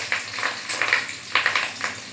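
Egg and potato fritters frying in hot oil, a steady close bubbling sizzle with soft crackling bursts recurring every half second or so, no voices over it.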